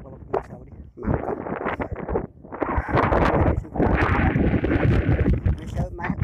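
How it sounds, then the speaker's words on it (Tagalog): Strong wind buffets the microphone in heavy rumbling gusts at Jabal Thawr near Makkah, Saudi Arabia, nearly continuous after a brief lull, with a voice faintly mixed in. "hindi narinig yung boses ko kasi malakas po yung hangin"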